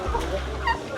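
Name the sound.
turkeys calling at a farm in Vagamon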